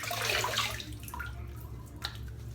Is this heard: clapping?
no